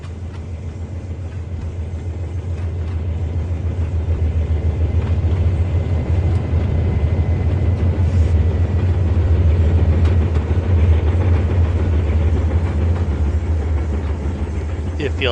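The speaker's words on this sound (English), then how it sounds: "We got 4 black Norfolk Southern locomotives" A coal train hauled by four black Norfolk Southern locomotives rolls along in the simulator Trainz 2019, giving a steady, loud low engine rumble that builds and holds for fifteen seconds, with a voice speaking over it.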